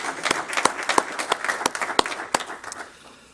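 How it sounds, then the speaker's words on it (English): Audience applause at a city employee recognition awards ceremony, a few seconds of steady clapping from a modest indoor crowd that tapers off at the end. "let's have a round of applause for those individuals."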